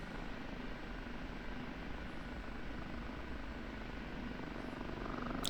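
An OH-58D Kiowa Warrior helicopter rolls down a runway in the DCS flight simulator, its engine and rotor making a steady, even droning hum that holds constant and unbroken the whole time, with no talking.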